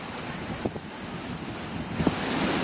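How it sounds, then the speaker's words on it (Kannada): Water rushes steadily over the Sunadholi bridge in Belagavi, a broad continuous roar with wind buffeting the microphone and a couple of brief splashing bursts, no voices. "ನೀರು ಹೇಗೆ ಹರಿತಾ ಇದೆ ಅಂತೇಳಿ ನೋಡಿ"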